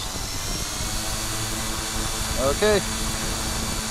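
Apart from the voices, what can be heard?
3DR IRIS+ quadcopter drone taking off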